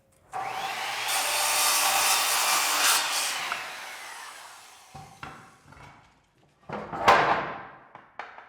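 A wooden head casing for a doorway is sawn in a long, loud steady stroke for about three seconds, followed by several shorter rasping cuts and scrapes after a pause.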